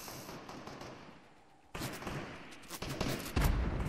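Fortnite OG video game gunfire crackles in sudden bursts of rapid shots after a quieter lull, fairly faint overall, with no talking.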